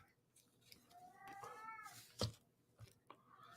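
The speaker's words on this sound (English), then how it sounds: "That's my cat meowing at nothing." A pet cat meows a few times nearby, drawn-out wavering cries with short gaps, fairly quiet, with a soft clunk partway through and faint room noise around it.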